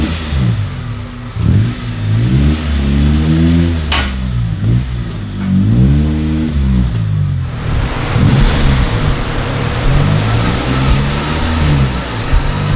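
A Honda Civic Type R clone with a K20R engine revs on a dyno, its loud engine note rising and falling through repeated sweeps with whooshing roller and intake noise close by.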